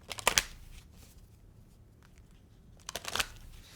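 Tarot cards shuffled by hand in two brisk riffle bursts about three seconds apart, crisp and close, with quiet room tone between them and no talk.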